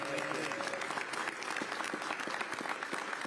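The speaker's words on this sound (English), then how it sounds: "We can clap for him." Audience applause at a New York City mayoral announcement of labor agreements for capital projects, a steady dense clapping from a crowd filling the whole stretch at even loudness.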